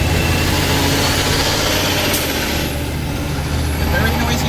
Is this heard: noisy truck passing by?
yes